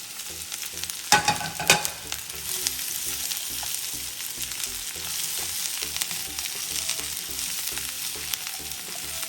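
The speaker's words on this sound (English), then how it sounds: "We're gonna saute for a little while until it gets softer." Onions and green bell pepper sauté in a pan with a continuous bright sizzle, broken early by a couple of sharp clatters of stirring, then settling into even frying alone.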